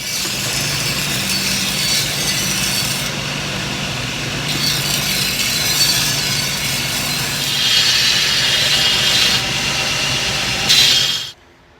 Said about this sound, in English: I've got a good sharp 36 grit belt on my grinder. I'm just going to use the contact wheel to hog off material.